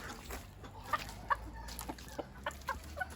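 Hens with chicks in a chicken coop, soft close clucking in short scattered bursts with faint high chick peeps over low background noise.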